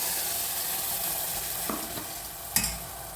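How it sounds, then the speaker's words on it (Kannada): Ground masala frying in oil with a cumin and dried red chili tempering, a steady hiss of sizzling throughout with a couple of brief stirring scrapes near the end, close and unaccompanied by voices. "ಜೀರಿಗೆ ಮತ್ತು 1-2 ಒಣಮೆಣಸಿನ್ಕಾಯಿ ಹಾಕ್ಕೊಂಡಿದ್ದೀನಿ."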